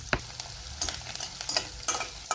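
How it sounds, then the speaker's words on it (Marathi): Finely chopped garlic and coconut frying in a pan, with a steady sizzle broken by repeated scraping stirs, close and fairly quiet with no voices. "हे लसूण आणि खोबरं जे बारीक केलेलं आहे ते आता परतायचं ह्यामध्ये थोडंसं."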